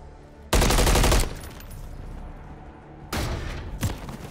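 An MCW assault rifle fires in Modern Warfare, two loud full-auto bursts: a sustained spray near the start, then a shorter burst and a final crack after a quieter gap, heard close and without talk.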